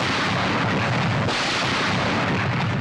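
Artillery guns firing in a 1972 Bollywood war film battle scene, dense continuous booming and rumbling blasts filling the scene at high level, with no talking.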